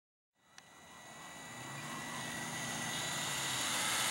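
An E-Flite UMX B-17 Flying Fortress RC model bomber on its maiden flight gives a steady whirring motor drone that starts abruptly and swells gradually, faint and at a distance, with no talk.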